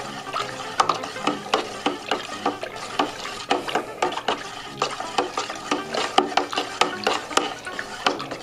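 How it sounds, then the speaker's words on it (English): Juice from a white wine Riesling kit is stirred briskly in a vessel, with repeated sloshing swirls and quick splashy strokes coming in an uneven rhythm, close and moderately loud, with no talk. "you want to make sure you give this a good stir"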